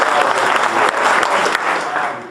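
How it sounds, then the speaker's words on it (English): An audience at a bonsai demonstration claps for David, a dense, loud, continuous burst of applause from a crowd close by, holding steady throughout. "I think we should probably give David a round of applause too,"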